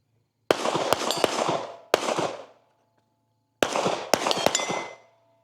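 Sharp revolver shots ring out in two bursts during an outdoor steel shooting competition, each crack followed by a bright metallic ring from steel targets, with a pause of about a second between bursts.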